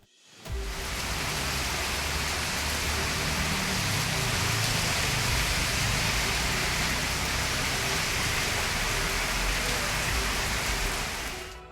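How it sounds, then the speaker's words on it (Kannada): Heavy evening rain pours down in Bengaluru, a dense, loud, unbroken hiss of drops on surfaces that holds steady from start to end, with no voices. "ಸಂಜೆ ಆಗ್ತಾ ಇದ್ದಂತೆ ಅಬ್ಬರಿಸೋ ಮಳೆ"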